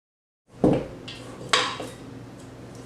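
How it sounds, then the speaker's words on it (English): A spoon knocks and scrapes against a bowl while chocolate chips are stirred into cookie dough, with two clear clinks about a second apart and softer scraping between them, close by and alone. "So now my chocolate chips are all mixed in"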